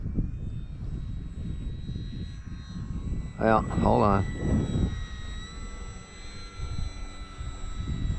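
A Durafly Tundra RC plane taxiing on its wheels on a sunny day, its electric motor whining steadily under wind noise, with someone talking briefly nearby.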